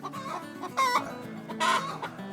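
Pasture-raised chickens cluck near a homestead coop in two bursts of loud, close squawking over a steady murmur of softer hen chatter.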